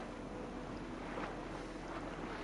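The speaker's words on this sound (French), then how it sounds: "t'as les vagues qui rentrent dedans" Ocean waves washing in, heard in the video game Horizon Forbidden West: a steady, broad rushing wash of surf with gentle swells, continuous and fairly soft throughout, no voices.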